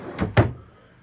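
A drawer in a 2024 Intech Sol Horizon Rover camper trailer slides open: two quick close knocks and scrapes in succession, followed by quiet.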